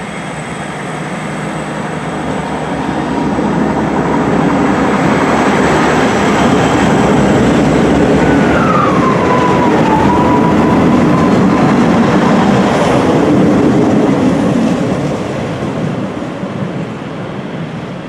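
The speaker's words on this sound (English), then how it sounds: "There goes 158959 going to the sidings." Train unit 158959 pulls away toward the sidings at Cardiff, a steady rumbling roll of wheels and engine swelling to a loud plateau mid-clip before easing off, with a faint squeal partway through and no voices.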